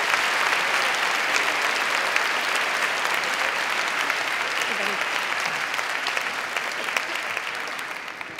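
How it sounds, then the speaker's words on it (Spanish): Loud, sustained applause from a large audience at a final gala ceremony for a most-beautiful-village award, honoring a regional federation president, steady for several seconds with faint voices mixed in. "¡Aplauso fuerte también para él!"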